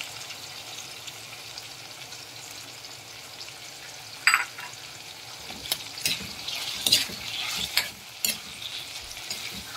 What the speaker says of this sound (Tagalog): Halo-haloin lang natin.